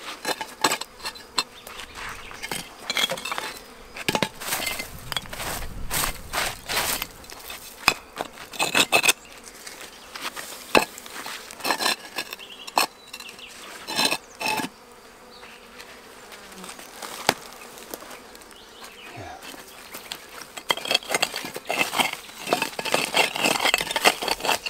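Dense, continuous buzzing of honey bees swarming around a heavy beehive outdoors, many insects droning close by with passing buzzes near the microphone and a faint engine-like hum underneath.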